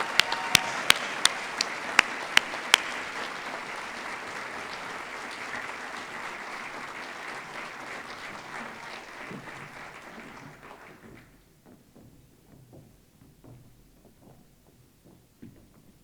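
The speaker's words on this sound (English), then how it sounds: "Let's give a round of applause and congratulate Diane and David." Audience applause for award recipients at a National Philanthropy Day event, opening with a few sharp nearby claps, then a steady wash of clapping that gradually fades away to near silence with only scattered sounds.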